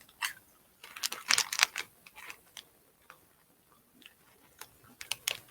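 Crunchy Japanese soup crackers being chewed, giving a run of sharp, close crisp cracks and ticks in irregular bursts with short pauses, louder in the middle. No voices.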